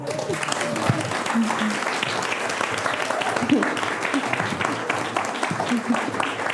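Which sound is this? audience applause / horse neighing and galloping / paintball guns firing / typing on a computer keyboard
audience applause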